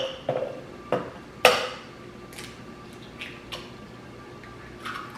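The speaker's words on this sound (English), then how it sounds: "We're gonna crack 2 eggs" Two eggs cracked against a cup in a home kitchen, heard as a few sharp, close taps and clicks with small knocks between them in a quiet room.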